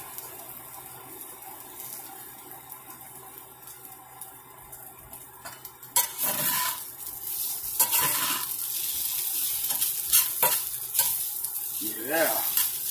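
Home fries frying in a pan on a stovetop, a quiet steady sizzle that swells louder halfway through, with bursts of stirring and scraping on top.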